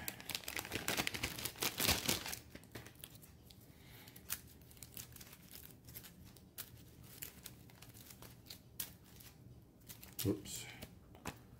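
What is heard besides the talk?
shuffling escort reaction cards for a board game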